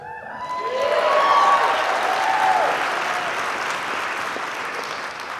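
Audience applause fills a presentation hall at an Ignite event, building quickly to a dense, sustained clapping that holds steady and then slowly thins over several seconds, with no voices over it.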